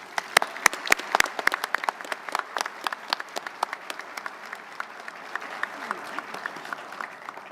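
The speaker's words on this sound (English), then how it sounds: "Please give them a round of applause." A luncheon audience at a naval awards event applauds, a lively stretch of many hands clapping with crisp, distinct claps up front over a steadier background patter, sustained for several seconds.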